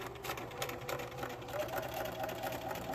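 A sewing machine stitches an apron seam and back stitches, a quick rattling run of needle strokes heard up close at low level with a voice nearby.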